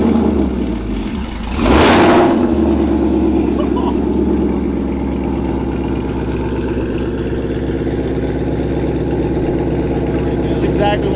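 A 700 whp procharged Mustang revs hard with a loud exhaust, a sharp roaring burst followed by a sustained, throbbing idle close up.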